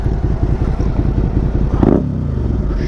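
A Suzuki SV650 V-twin motorcycle engine runs close by with a rapid, throbbing low-pitched rumble and a brief swell in revs near the end, loud and steady without any talking.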